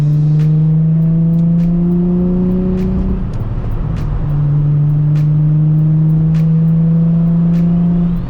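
A Nissan Z sports car drives out toward the canyons in the morning, its engine a steady close drone with a brief shift or rev change midway, then settling back into an even cruise.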